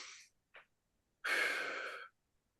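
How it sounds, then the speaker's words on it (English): Breathing out through pursed lips during a seated chair exercise session: a short breath and a brief puff, then one long, steady, airy exhale close to the mic, with no talking. "breathing out and pursing your lips almost as if you're going to whistle or blow out some candles"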